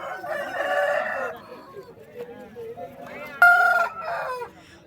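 Roosters at a rooster market in Vijayawada crow in loud, harmonic calls, one long crow near the start and another sharp, bright crow later, with softer clucks and market murmur between.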